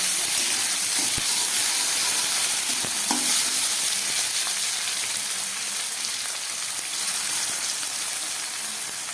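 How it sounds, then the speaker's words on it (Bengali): Tomato and capsicum fry in a pan for a vegetarian ghugni, giving a steady, close sizzle with occasional stirring clicks and scrapes throughout, and no talking. "টমেটো আর ক্যাপসিকামটা ভাজা হয়ে গেছে।"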